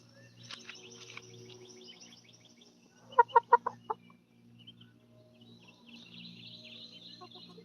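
Chickens on a farm make faint clucks and calls, with a short run of about five sharp, louder clucks in the middle, against a quiet background.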